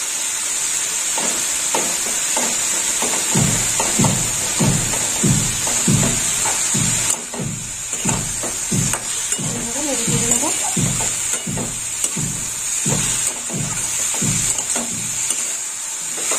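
Ground coriander, chili and turmeric powders frying in a pan, a constant hissing sizzle under repeated rhythmic scraping strokes of stirring, close and fairly loud.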